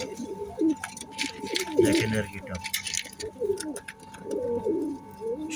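An Omani pigeon coos repeatedly up close in throaty, rolling bursts, while someone speaks briefly over it.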